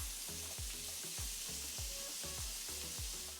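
Ground meat for spaghetti meat sauce sizzles in a hot pan over medium heat, a loud steady crackle broken by rhythmic scraping strokes of stirring or mashing, close up and without talk.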